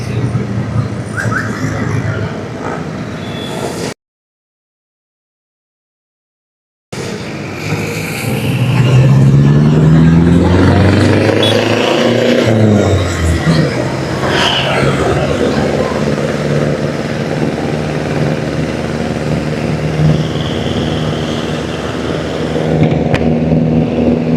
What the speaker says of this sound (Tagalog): Marami ng mga sasakyan.